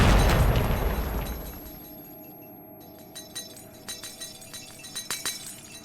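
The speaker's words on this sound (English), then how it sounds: "a weird urge to test my PC with the glass physics" Glass shatters in the S.T.A.L.K.E.R. game. A loud burst of breaking glass comes first and fades over a couple of seconds, then scattered small shards tinkle and clink as they settle.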